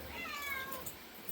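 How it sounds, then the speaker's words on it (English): A cat meows faintly from a distance inside an animal enclosure, one drawn-out complaining cry over a low background hum. "we've got a cat complaining up there"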